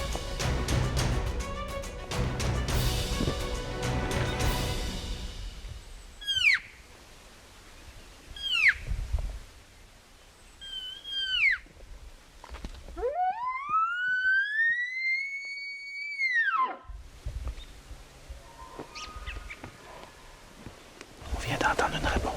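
A bull elk's high, rising bugle whistles repeat across a British Columbia hunting area, several short calls followed by one long, strong sweeping call, amid rustling and soft whispering.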